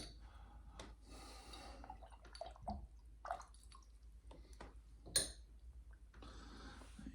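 Parts of a 1950s Getzen Super Deluxe are rinsed in a pitcher of water, giving faint drips, swishes and small splashes with a few soft knocks, quiet and close with no talk.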